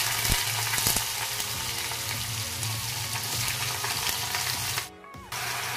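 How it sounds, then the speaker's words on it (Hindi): Vegetables for aloo baingan sabzi tipped into hot oil tempered with mustard seeds, asafoetida, bay leaf and dried red chilli, a loud sustained frying crackle close by, briefly dropping out before resuming. "अब इसमें हम थोड़ा थोड़ा सब्जी डालेंगे।"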